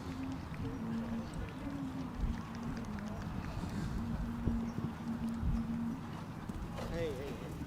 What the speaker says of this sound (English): And now what a fabulous horse.